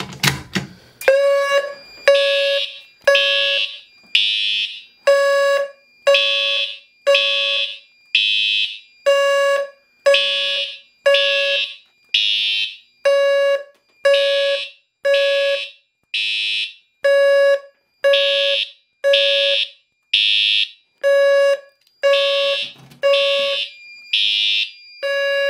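A Notifier AFP-100 fire alarm system sounds after a pull station is pulled, blaring in steady rapid pulses, loud and close, repeating evenly for a long stretch with no talking.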